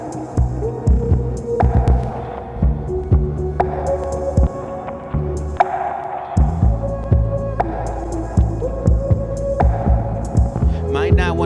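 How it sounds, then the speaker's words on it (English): Hip-hop beat playing loud and steady through a live rap set at the XOXO Festival 2018, with a deep thumping low end and a repeating rhythmic loop, no vocals over it yet. "Probably can turn this beat up"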